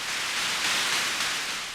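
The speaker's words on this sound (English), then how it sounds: "it's also like a white noise sound" Hissing white noise layered like a drummer's cymbal in an indie pop remix, a brief steady wash that swells slightly in the middle, heard alone.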